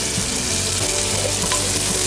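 Meat sizzles loudly with butter and onion in a pan, a dense, close crackle of frying with a few soft stirring knocks across the brief stretch, no voices.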